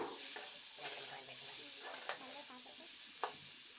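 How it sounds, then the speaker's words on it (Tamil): Tomatoes and garlic sautéing in a pan for okra curry, a faint continuous sizzle with light stirring scrapes and two sharp utensil taps against the pan. "சேர்த்துட்டு தக்காளியும் நல்லா சாஃப்ட் ஆகிற அளவுக்கு வதக்கி விட்டுக்கலாம்."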